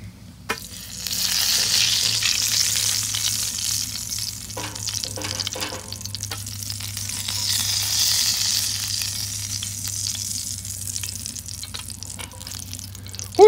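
Bacon frying in a pool of grease on a hot rocket stove, a steady broadband sizzle and crackle that holds throughout, with a few louder pops and a sharp clatter at the very end.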